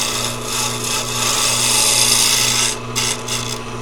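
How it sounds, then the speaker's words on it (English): A bowl gouge cuts a spinning wooden pen blank on a lathe, giving a steady, loud, close scraping and rasping over the constant drone of the lathe motor, with brief dips near the end and no voices. "right now I'm just using this bowl gouge to try to make an even, or a nice parallel"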